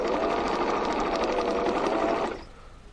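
A sewing machine runs at its maximum speed setting, stitching in one loud, fast, even whir that stops abruptly near the end.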